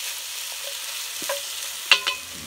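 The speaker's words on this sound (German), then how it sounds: "Als erstes werden die Zwiebeln und der Speck angeröstet. Jetzt kommt der Nacken dazu." Onions, bacon and diced smoked pork neck fry in a Dutch oven, a steady close hiss with a couple of louder scraping stirs and thuds near the end as more meat goes in.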